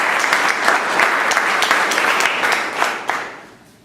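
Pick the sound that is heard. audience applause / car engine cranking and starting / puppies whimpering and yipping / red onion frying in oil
audience applause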